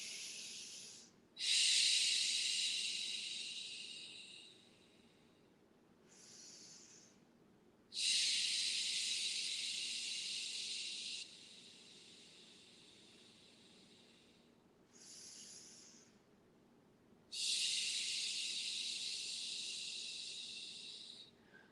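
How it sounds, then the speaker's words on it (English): Slow, deep yoga breaths: three long airy exhales, each loud and hissing for several seconds, separated by quieter inhales and pauses in a still room. "Let us breathe."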